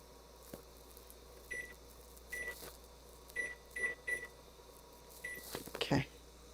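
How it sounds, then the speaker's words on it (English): A kitchen timer is set for ten minutes while cooking eggplant balls, giving short, high electronic beeps in irregular bursts over a quiet, humming room, ending with a brief clatter. "And we'll set the timer for 10 minutes."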